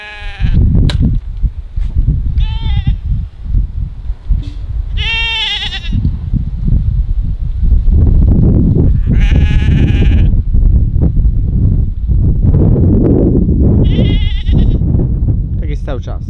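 Goats and a sheep on a farm bleat loudly and repeatedly in panicky bursts, close to the microphone, over steady background noise.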